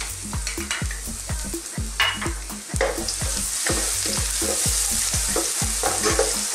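Garlic sizzles and crackles in hot oil in a frying pan, a steady loud fry broken by repeated rhythmic stirring scrapes throughout, with no talking.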